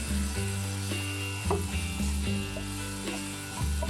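Potato pieces sizzle steadily in a frying pan as sweet paprika is stirred through them, a continuous close crackling hiss broken by repeated scraping knocks of the spoon against the pan.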